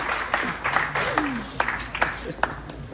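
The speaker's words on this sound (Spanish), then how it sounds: "Dale un aplauso." Scattered, sparse clapping from guests at a wedding reception for a pastor couple in California, a handful of distinct claps over background talk and murmur.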